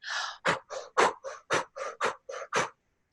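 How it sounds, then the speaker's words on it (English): A person demonstrates breathwork, blowing sharp breaths out through the mouth while snapping the belly back: about ten short, forceful exhales in a steady rhythm, close and fairly loud, with no talking. "It's only through the mouth, and you're going to blow"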